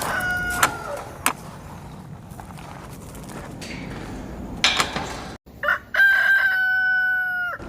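Chickens at a backyard coop, with scattered clucks and clattering early on, then a loud, close rooster crow drawn out at the end; no talking.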